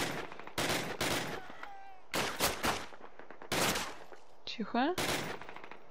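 Machine gun fire from Call of Duty (2003) comes in loud, close bursts of rapid shots separated by short pauses, with a voice speaking briefly between them.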